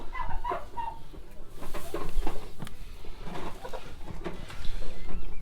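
Broody farm hens cluck and murmur close by in a steady, uneven stream of short calls, with some rustling and shuffling around them.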